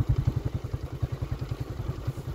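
A motorcycle engine climbs the road up Mangla Dam near Dadyal, Azad Kashmir, its rapid, regular exhaust thumps pulsing close and steady with no voices.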